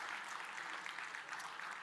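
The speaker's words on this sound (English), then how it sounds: "put your hands together for the final time today" An audience at a TiDB user conference in India claps for the final time of the day, a dense, even wash of applause throughout.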